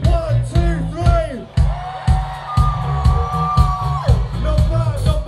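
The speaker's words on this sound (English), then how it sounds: "After three, give me a massive cheer." A live concert audience at a show lets out a big collective cheer, with whoops, shouts and yells swelling over loud music and a held sung note, close and sustained for several seconds.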